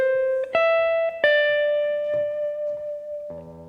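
Electric lead guitar plays a melodic phrase of a song, sustained sliding and bending notes ringing clearly and alone, with a lower chord entering at the end.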